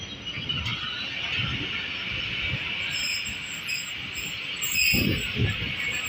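The Shah Latif Express, hauled by EMD HGMU-30 locomotive 8217, rolls out of Landhi Junction with a steady rumbling roar, high wheel squeal throughout and a few heavy thumps near the end.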